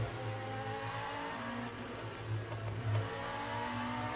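Race car engine in the Le Mans Ultimate racing game, droning steadily and repeatedly bouncing off the rev limiter in a buzzy, pulsing stutter, loud and continuous with no talk.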